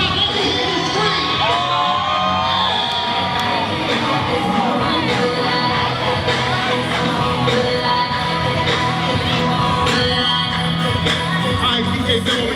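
A high school commencement crowd screams and cheers loudly and continuously, with excited shouts and whoops rising over a dense wall of noise.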